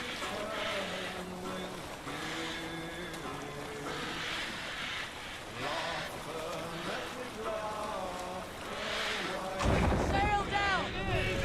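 A Viking ship sails across open water in Assassin's Creed Valhalla, with steady wind and waves washing beneath layered in-game voices and music, and a louder splash of surf near the end.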